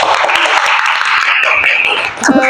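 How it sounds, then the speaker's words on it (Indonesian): A class of students applauding in a classroom lesson, a brisk, fairly loud stretch of clapping that continues for a couple of seconds with voices mixed in. "Tepuk tangan untuk kita semuanya"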